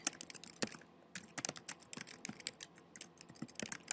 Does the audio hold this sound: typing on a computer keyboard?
yes